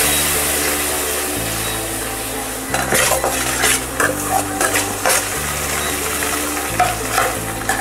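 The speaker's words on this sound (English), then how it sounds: "then tomatoes, fry it nicely." Tomatoes frying in a pan, a loud close sizzle with a run of quick metal utensil scrapes and clinks against the pan as they are stirred.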